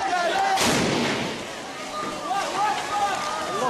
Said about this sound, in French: on entend le bruit sourd d'un obus de mortier